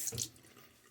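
Cold water runs from a tap during a shave in winter, a short, faint splashing burst at the start that quickly fades.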